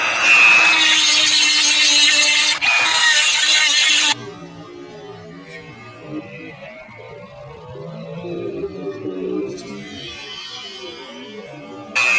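A hand tool carves wood from the edge of a door where a deadbolt sticks, giving loud scraping strokes for about four seconds that give way to quieter, sporadic rubbing and a brief burst of scraping near the end.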